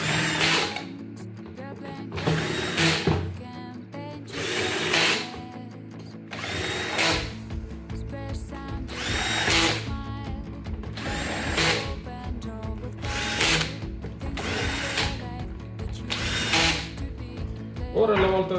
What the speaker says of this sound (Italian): se utilizzate un trapano ricordate di utilizzare la funzione avvitatore con una frizione bassa